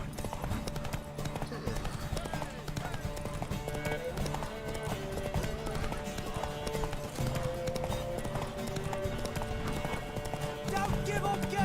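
Hooves clip-clop in a fast steady gallop during a horse race in The Witcher 3: Wild Hunt, continuous and close under game music and ambience, with no break.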